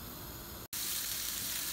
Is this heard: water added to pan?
yes